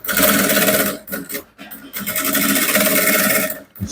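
Close, loud stitching from a sewing machine closing a flap on an Ankara top, running in bursts with short pauses between runs, no voices over it.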